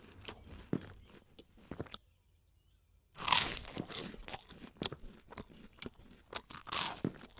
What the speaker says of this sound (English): Chewing.